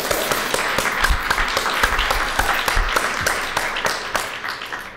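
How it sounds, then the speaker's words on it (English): Audience at a university meeting applauds, steady rhythmic hand clapping fairly close and loud, with individual claps standing out before it tapers at the end. "So the first thing we're gonna do is applaud Bea."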